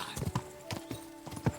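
Hooves of a horse in Kingdom Come Deliverance 2 clop in a short burst of a few close, soft footfalls, uneven in rhythm, with no talking.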